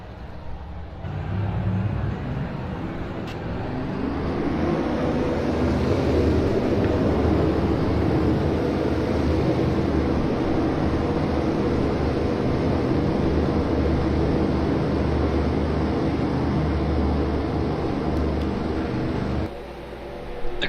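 Race cars in a racing video game roll off at the start at Bristol, a dense, steady engine roar from a packed field that holds near and loud with no talk.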